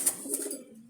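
Jalali pigeons give a short, close coo with a soft, throaty murmur that fades out within a second, quiet and alone.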